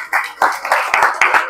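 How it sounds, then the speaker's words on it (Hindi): Audience applause in a seminar hall for estate agents, a burst of clapping from a crowd of hands with sharp individual claps standing out, steady and fairly loud for a short stretch. "आपको जोरदार तालियां देना है"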